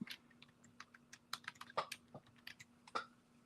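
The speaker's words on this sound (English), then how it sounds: "I'm going to click on the T and I'm going to type straight." Keys tapped on a computer keyboard in quick, irregular bursts of clicks, close and fairly quiet, with a steady low hum underneath and no talking.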